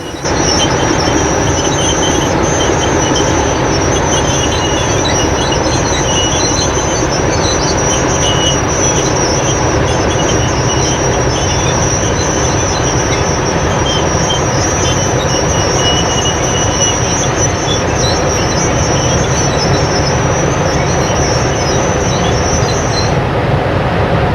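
A DG class diesel locomotive hauls its train through Central Otago hills, a steady loud rumble of engine and rolling wagons with faint wheel squeal, continuous and close throughout, no voices.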